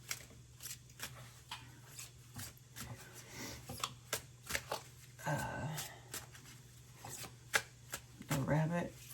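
A deck of tarot cards is shuffled close by in repeated quick riffles and soft slaps, with a quiet hum behind and a few brief voice sounds in between.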